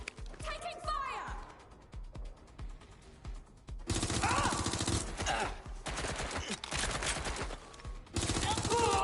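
Gunfire crackles through a Watch Dogs Legion firefight in dense, rattling bursts, loudest in the second half, with voices talking over the shooting.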